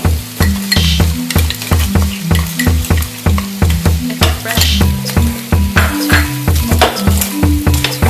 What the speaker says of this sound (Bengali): পেঁয়াজ কুচিটা ভালো করে ফ্রাই করে নেব।